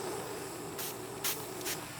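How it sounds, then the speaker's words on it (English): Flux sprayed onto a silver ring band during soldering at a jeweller's bench: three short, soft hissing bursts of spray over a steady background hum. "give that another little spray"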